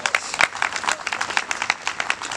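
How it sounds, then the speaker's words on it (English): A children's music institute audience claps briefly, with a brisk, uneven patter of many hands nearby lasting a couple of seconds. "you can give a hand clap to that"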